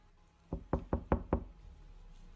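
Five sharp, close knocks in quick succession on a locked bathroom door, evenly spaced, then quiet.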